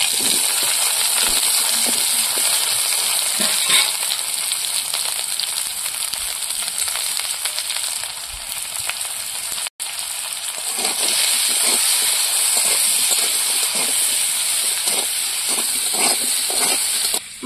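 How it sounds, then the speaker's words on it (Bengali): Potatoes frying in hot oil in a kadai with salt and turmeric, a loud continuous sizzling hiss close by with scattered crackles and pops, briefly interrupted midway. "আলুগুলো ভেজে নেবো লবণ হলুদ দিয়ে।"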